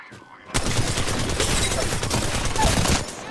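Gunfire in the video game Apex Legends: after a brief quiet moment, a dense, loud burst of rapid shots erupts and continues steadily, close and unbroken to the end.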